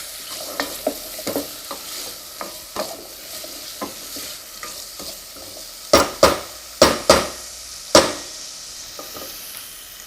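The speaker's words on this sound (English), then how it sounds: "Just by sauteing a few of the vegetables at the start, it helps to release the flavours a little more into the dish." Vegetables for a Kerala spiced pumpkin soup are sautéed in a pan, with a low sizzle under repeated stirring scrapes and light utensil taps that build into several sharp, loud knocks near the end; no one talks.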